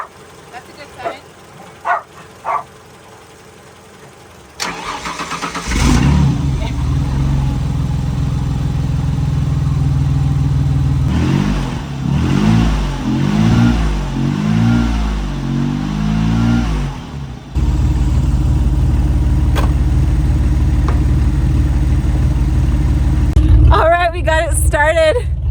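A race car with a loose plywood spoiler cranks and starts after a few seconds of quiet, settles into a rough idle, then revs up and down several times in uneven bursts before holding a loud, steady drone close by.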